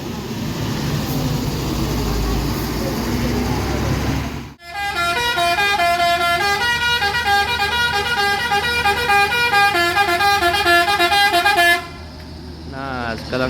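PO Palala bus pulling out of a terminal, sounding a loud melodic musical horn in repeated patterned toots for several seconds after a burst of engine and crowd noise, close and dominant.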